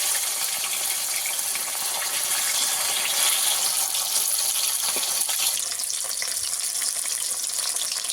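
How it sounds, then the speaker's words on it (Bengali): Fish frying in a pan for a Bengali dab bhetki dish, a steady broadband sizzle running unbroken for the whole stretch, fairly loud and close, with no talk over it. "সেখানে মাছগুলো ভাজবো, একসঙ্গে সব মাছগুলো দিয়ে দেবো না, আমি দুবারে ভাজবো মাছগুলোকে।"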